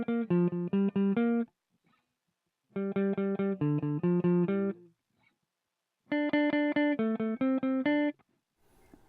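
Three bursts of a reggae bass line played on guitar without palm muting, quick repeated notes ringing out openly with clear, bright sustain, separated by short silences.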